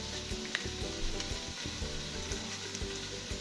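Tomato paste sizzles and fries in a biriani pot holding blended garlic and ginger, a dense steady crackle close by with occasional stirring scrapes and no talk.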